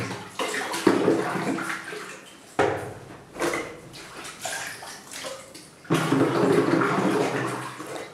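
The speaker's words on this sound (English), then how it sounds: "So this is the first rinse." Dishes being rinsed by hand under a running tap, a steady splashing gush broken by brief pauses, with clinks of plates and water sloshing in bursts.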